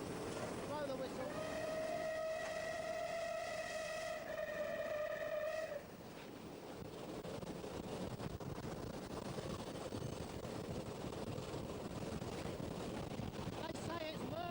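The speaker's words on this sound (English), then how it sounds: "Blow the whistle." A Clan Line steam locomotive whistle sounds a long steady chord for several seconds, then cuts off, leaving the chuffing rumble of the engine underneath.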